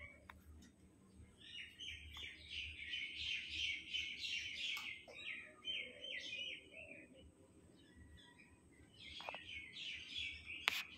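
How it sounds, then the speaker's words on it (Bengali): Pet doves kept at home chirping and calling in the morning, a steady run of bright repeated chirps near and moderately loud, pausing midway and then resuming, with no talking over them. "সকালবেলা পাখির কিচিমিচির শব্দ, তাই আমি আর কথা বলছি না"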